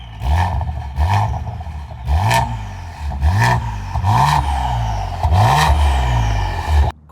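Ford Explorer ST police vehicle with carbon fiber exhaust tips and Valvetronic mufflers closed, revved repeatedly in close range, each rev a rising, subdued roar followed by a short settle, about six blips in steady rhythm.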